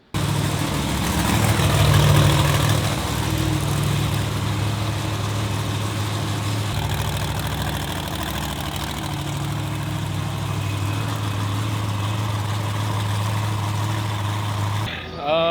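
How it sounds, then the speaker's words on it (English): A Monster Jam monster truck engine idles steadily with a deep, loud rumble that holds for the whole stretch, wavering slightly in pitch, with no talk over it. "My truck's running really good right now"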